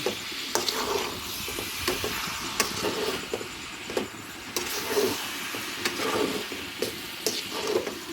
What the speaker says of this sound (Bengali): এখন আস্তে আস્তে এগুলো মিক্স করিয়ে এলাম